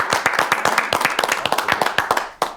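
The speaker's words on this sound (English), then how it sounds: "So I want us 5 to applaud them." Audience applause for a panel at a Barclays debate on corporate social responsibility, a short burst of brisk, fairly close clapping from a modest crowd that thins out toward the end with a final lone clap.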